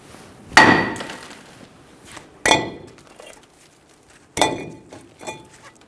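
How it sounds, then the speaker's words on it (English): Three sharp metallic hammer strikes ring out against the front brake rotor of a Toyota Tacoma pickup, spaced a couple of seconds apart, each leaving a short clanging decay. "You may need to hit it with a hammer."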